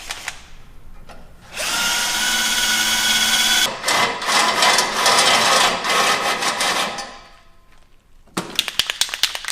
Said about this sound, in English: we're going to drill these holes out to 11/16, and I'd recommend a step bit for this